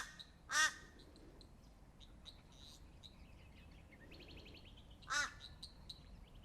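Crows giving two loud, harsh caws about four seconds apart, fairly close, with faint chirps from other birds in between during a quiet outdoor meditation setting.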